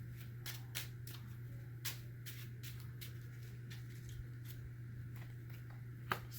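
A deck of Marvel Champions card game cards being shuffled, a string of soft, quick riffling snaps repeated over several seconds, faint and close over a steady low hum, with no talking.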